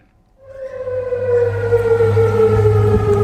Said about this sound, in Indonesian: sirene meraung di kota Amman